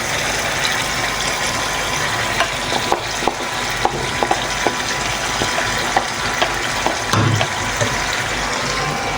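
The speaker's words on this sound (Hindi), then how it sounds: "अब मैं इसमें दही डालूंगी।" Yogurt hits tender meat in a pan for Afghani karahi, and a loud, continuous frying sizzle follows, with repeated scrapes and clicks from stirring throughout.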